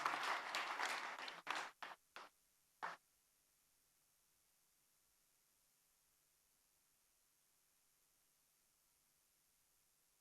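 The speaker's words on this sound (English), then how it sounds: "I hope you'll keep your applause going" Brief applause for award-winning model taxpayers at the TIOL Awards 2022 ceremony, fairly faint, thinning after a second or so into a few scattered claps before falling silent.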